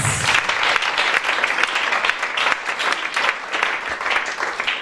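A church congregation applauds during a worship service, loud dense clapping with rhythmic surges throughout, no voices rising above it.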